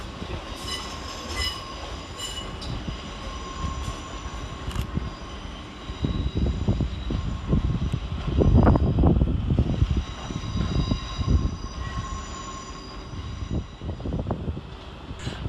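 An electric passenger train, Southeastern Railway units 450095 and 450113, rumbles into London Waterloo station and slows, low wheel and motor noise swelling midway, with a faint squeal and steady electric hum above.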